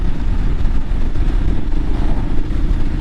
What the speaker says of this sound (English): Feel the roll-on power of that 400cc air-cooled motor.